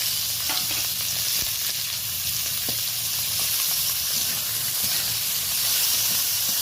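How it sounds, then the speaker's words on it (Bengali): Chopped onion, tomato and garlic dropped into hot oil, frying with a loud, continuous hiss and sizzle and occasional clatter, no voices. "তেলটা বেশ ভালোভাবে গরম হয়ে গেছে এবার আমি কেটে রাখা পেঁয়াজ আর টমেটোটা তুলে দিলাম আর তারই সাথে রসুনটাও দিয়ে দিলাম"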